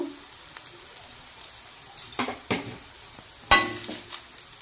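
Fried leftover rice is served from a pan onto a plate, with a few metal spatula scrapes and sharp clinks over a faint sizzle.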